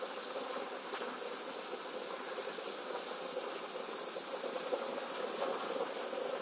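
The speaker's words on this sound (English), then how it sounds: "All these bees will eventually make their way in." A honeybee swarm moving into a hive entrance makes a steady, dense, droning buzz that holds at an even level throughout, with no talking.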